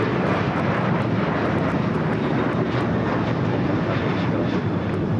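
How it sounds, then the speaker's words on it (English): An American Airlines Boeing 737-800 takes off at LAX with a constant, heavy engine roar, close and loud, with a dense low rumble that stays even throughout. "This is American Airlines 1899 taking off to Indianapolis on the 737-800"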